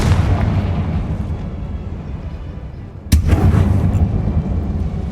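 Confringo fire spell in the video game Hogwarts Legacy: a loud, sudden blast cracks out about three seconds in over a constant heavy rumble, then booms and settles back into the din.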